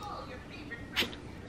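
A single short, sharp sneeze bursts out near the end over faint background noise.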